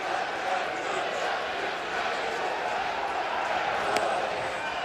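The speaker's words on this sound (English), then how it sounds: "Sends the Swayze Field crowd into a frenzy here in the second." The Swayze Field baseball crowd cheers and roars in a frenzy after a home run in an LSU versus Ole Miss college game, a dense, sustained wash of crowd noise with speech mixed in.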